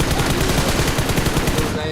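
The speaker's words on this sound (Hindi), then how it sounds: "यहाँ देखो इतनी गोली बर्बाद करता हूं मैं" Rapid automatic gunfire in the battle royale video game BGMI rattles loud and nonstop as a dense burst, close and filling the brief moment.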